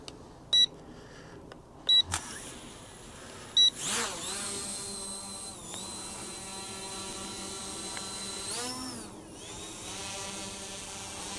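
An S197 GPS WiFi drone lifts off after a few short controller beeps, its small motors spinning up into a steady high whine that rises and shifts in pitch as it climbs, fairly quiet and close.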